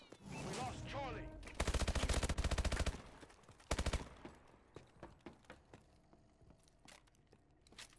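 Sustained bursts of covering gunfire in a Domination-mode shooter video game, rapid automatic volleys with a second burst after a brief pause, then scattered single shots and footsteps, with faint radio chatter early on.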